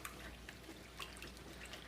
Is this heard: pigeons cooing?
no